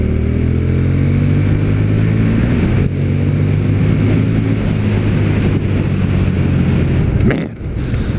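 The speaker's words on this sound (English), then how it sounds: "this video might just be gratuitous shots of me opening the throttle" A KTM Super Duke 1290R motorcycle engine roars loudly and steadily as the throttle is held open, a dense, close exhaust drone that holds its pitch for several seconds before briefly dipping near the end.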